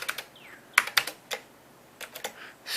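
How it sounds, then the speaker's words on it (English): Short bursts of key presses on an Apple IIc computer keyboard, a few quick clustered clicks with pauses between, close and fairly quiet. "And you type in print peek"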